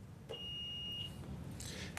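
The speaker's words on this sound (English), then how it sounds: "we'll start by having Northside Story test their buzzers and give their names" Quiz bowl buzzer tested by a team at a quiz competition: a steady electronic tone lasting about a second over a low room hum, with no talk.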